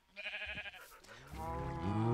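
Farm animals in the Minecraft video game let out a pair of bleating, mooing calls, the second longer and louder, with no speech over them.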